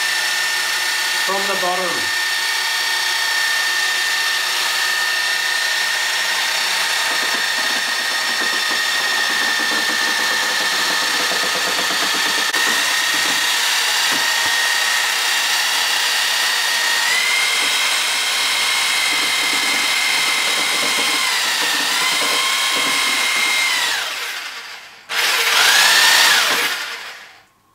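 A power mixer stirs paint for a Wagner Control Pro 250M airless spray system, starting slow, then running as a steady loud whine that shifts pitch partway through and cuts off near the end, with a few words spoken.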